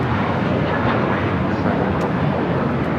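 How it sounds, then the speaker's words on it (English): American Airlines Airbus A321 taking off from Los Angeles International Airport, a loud sustained jet engine roar filling the whole stretch, with a person's voice faintly present over it. "This is American Airlines 2882 taking off to Dallas-Fort Worth on an A321"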